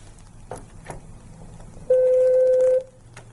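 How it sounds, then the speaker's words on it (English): A single steady electronic beep, clear and prominent, lasting just under a second over faint background noise. "After you have received the message and been told what kind of response to make, you will hear this tone."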